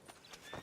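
Horse hooves clip-clopping in Red Dead Redemption 2, a few soft, quick thuds on the ground, faint and brief.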